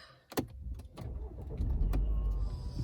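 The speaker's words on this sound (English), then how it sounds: "Let me turn the car on real quick" BMW M528 car starting up: a sharp click and brief whir, then the engine catches into a steady low rumble that settles and holds close by, with no voices.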